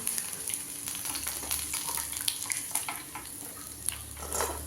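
Ivy gourd chilli frying in hot oil, a dense close sizzle with crackles and bubbling pops that carry on steadily throughout, with no voices over it.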